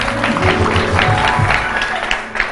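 A television studio audience claps on a morning makeover show, loud clapping mixed with low rumbling crowd noise and music-like tones, fading slightly near the end.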